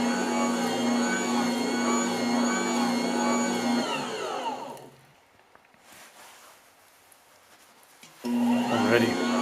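Joydeem JD-HMJ7L dough maker kneading dinner roll dough, a loud steady motor whine that drops away into near silence for a few seconds, then starts up again at full strength.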